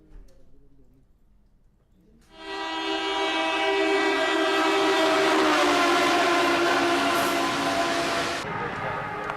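A passenger train runs past in India, a dense, steady roar with horn-like tonal bands that swells in abruptly after a quiet start and holds loud before easing slightly at the end.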